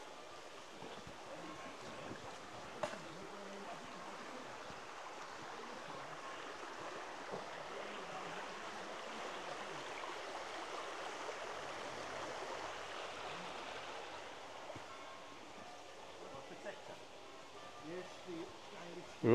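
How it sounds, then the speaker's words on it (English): River in rural Shropshire, a continuous soft rushing and babbling of flowing water, fairly quiet and steady throughout with no talking over it. "A little quick look down by the river."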